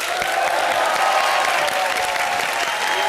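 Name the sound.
studio audience applause welcoming guests on comedy show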